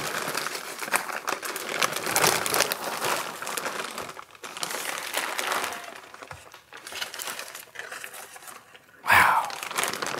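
Paper and foam packing crinkle and rustle as engine parts for a Yamaha Banshee are pulled from a box, a long close scraping and crumpling with pauses and a sharper crunch near the end.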